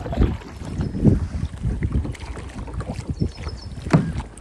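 A kayak paddled on Malgund creek, with several soft, irregular splashes and paddle strokes close by and a little wind buffeting the microphone.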